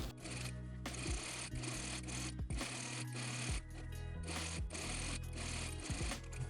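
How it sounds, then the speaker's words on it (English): A sewing machine stitches an apron onto the waistband of a traditional dirndl dress, running steadily and close up with brief pauses and rubbing fabric sounds throughout. "let's sew the apron onto the waistband at 1 centimeter"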